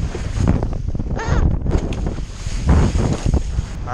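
Strong wind gusts roar across the microphone during a kiteboarding session on the water, a continuous loud buffeting with rising and falling puffs and no voices.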